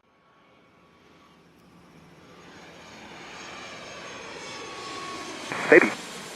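A plane landing on runway 14 at Zurich Airport rumbles in from a distance, its engine roar swelling steadily louder and closer before a sharp peak near the end.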